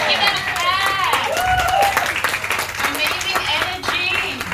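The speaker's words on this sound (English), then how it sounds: "Give them a clap." People at a business training event clap together in a lively, sustained burst while excited voices and cheering ride over the applause throughout.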